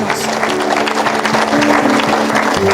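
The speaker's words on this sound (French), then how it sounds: "Est-ce qu'on peut acclamer pour cette grâce? Acclame le Seigneur." A church congregation applauds together in a dense, steady wash of clapping, with sustained tones running beneath it and no clear talking.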